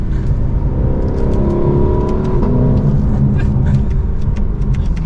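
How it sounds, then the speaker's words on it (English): A 2024 Lexus LC500 exhaust note swelling as the car accelerates, a loud, close, throaty engine roar with rising revs and a smooth continuous tone. "aside from that exhaust note, which if you're buying this car, I would assume you want to hear it"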